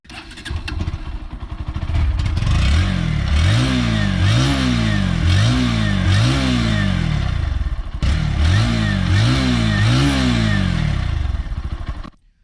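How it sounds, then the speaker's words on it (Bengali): A Bajaj Pulsar NS 160 FI ABS motorcycle engine starts and idles, then revs repeatedly in rising and falling bursts, loud and close, with a short pause midway. "বাইকটির ইঞ্জিন সাউন্ডটাও কিন্তু অনেকটা স্মুথ রয়েছে"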